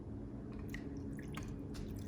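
Water is poured onto saved tomato seeds, giving soft, faint wet squishing and scattered small drips and splashes over about two seconds.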